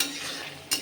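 Paneer cubes stirred into a cooked spice masala in a pan, a brief soft scraping of a utensil ending in a quick metallic clink.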